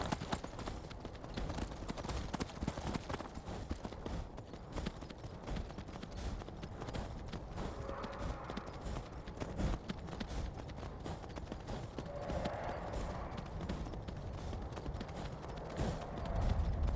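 Horse hooves galloping in the video game Skyrim, a dense, fast, continuous run of thudding beats at steady loudness throughout, with no voices.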